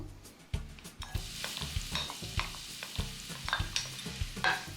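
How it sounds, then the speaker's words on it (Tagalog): Chopped garlic and onion sizzle in hot olive oil over medium heat while a utensil stirs and scrapes the pan in repeated strokes, close but fairly quiet, with no talking. "saute the chopped garlic and onion"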